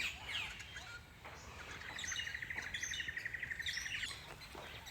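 Several birds chirp and call at once, including a rapid trilling series, fairly faint and outdoors with light background noise.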